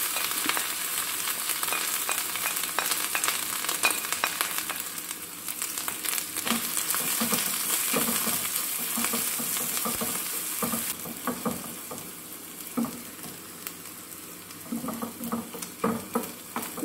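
Sliced onion and grated coconut fry in hot oil with mustard seeds, giving a steady, dense sizzle with occasional stirring scrapes and pops. No speech.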